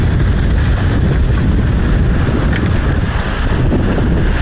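Sea waves and wind at the shore make a loud, rough rushing roar with heavy wind buffeting on the microphone, steady and close with no talk.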